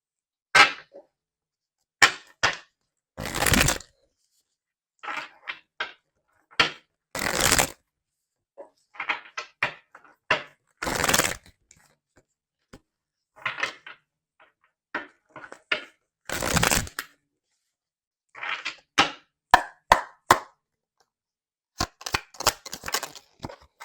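Tarot cards being shuffled and drawn, heard as scattered short riffles and slaps alone, with quiet gaps between bursts throughout.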